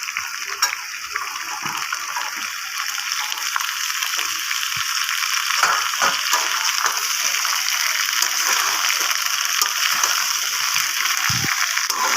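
Beans and other chopped vegetables go into a hot pan with a fish head, giving a steady, loud frying sizzle that hisses on without a break.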